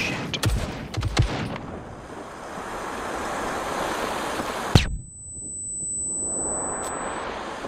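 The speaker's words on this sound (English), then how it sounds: "That, ladies and gentlemen, was a flashbang from the mech chasing me" A flashbang goes off from a mech in the survival game SCUM: a sharp loud burst cuts through wind-like rumble, then a long high steady ringing tone follows over muffled quiet, after earlier scattered sharp cracks.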